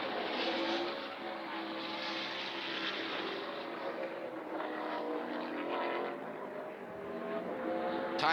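NASCAR Xfinity race cars on qualifying laps at the 2024 Focused Health 250, a steady loud engine roar sustained throughout, swelling and easing slightly as cars pass.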